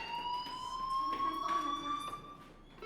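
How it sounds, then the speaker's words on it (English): School fire alarm in the video game Life Is Strange, a steady high electronic tone with harmonics ringing continuously, with faint background sounds beneath it. "do you hear that fire alarm?"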